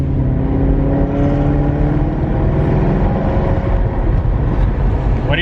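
A cheap exotic car bought from a salvage auction cruises in automatic mode with its exhaust valves closed, giving a loud, steady, low engine drone with a gentle rise in pitch and no talk.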